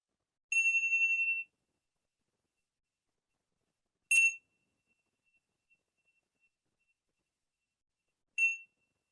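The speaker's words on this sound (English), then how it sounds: "just listen to the sound of the bell, rising out of the silence or background noise and then fading back into stillness" A meditation bell struck three times in a silent room, each a clear, high ringing tone; the first sustains about a second before fading, the later two are shorter, with long stretches of stillness between.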